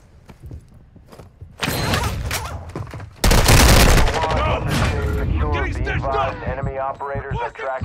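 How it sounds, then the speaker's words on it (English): Friendly airstrike explosions in Call of Duty MW2 DMZ, a loud burst of blasts and gunfire-like cracks peaking midway, followed by sustained rumbling under continuous voices talking. "Friendly airstrike on the way."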